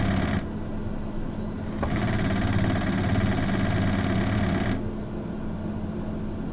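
Pilatus PC-12 turboprop engine in Microsoft Flight Simulator 2020 holds a steady, loud mid-pitched drone with a rising whine as throttle is added, alone without talk.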